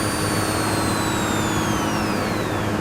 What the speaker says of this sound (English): If I let go slowly, you hear the turbo stop slowly.